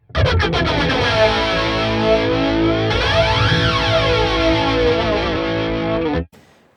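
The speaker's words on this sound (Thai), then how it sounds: "นี่ ทีเด็ด แฟลงเจอร์" A flanger effect on a Digitech RP500 multi-effects unit colors a loud, distorted electric guitar with sweeping comb-filter swoops over about six seconds of sustained chords, then cuts off abruptly.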